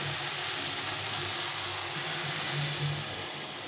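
A little water poured over chicken frying in spice masala brings a constant, moderately loud sizzle and hiss that swells slightly toward the end, with no voices.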